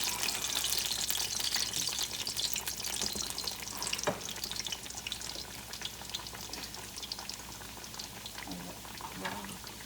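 Old-fashioned apple turnovers made with canned apples fry in hot oil with a steady, dense bubbling sizzle that stays close and loud throughout, with a few soft clinks partway through.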